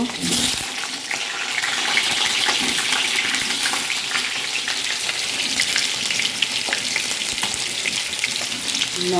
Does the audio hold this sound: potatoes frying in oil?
yes